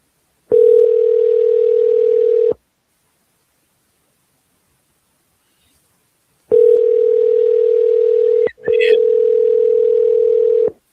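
Ringback tone on an outgoing phone call to a seller: two long steady bursts of ringing separated by a silent gap, clear and close with no voices.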